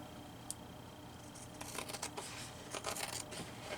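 Scissors cut through paper for a junk journal, giving a few soft, close snips and crisp rustles after a quiet start, faint and with no talking.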